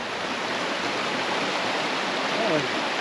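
Creek water rushing under a large building in Silver City, Idaho, a steady broadband roar of flowing water, close and continuous with no break.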